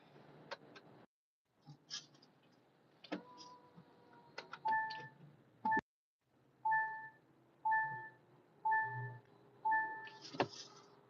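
Electronic beeping repeats in a steady rhythm, five or six short tonal beeps in a row, with some shuffling and handling noise before them.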